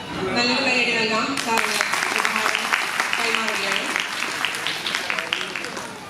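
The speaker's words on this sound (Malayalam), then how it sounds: "നല്ലൊരു കയ്യടി നൽകാം" Applause from an audience at a Kerala community hall inauguration ceremony, with a voice speaking over the opening second before steady, fairly loud clapping fills the rest.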